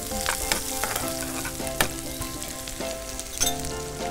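Green chilli sautés in a pan with garlic and ginger, a close, steady sizzle broken by a few sharp spatula taps and stirring clinks.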